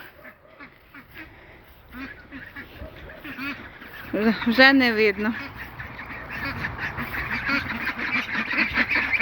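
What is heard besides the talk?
ducks quacking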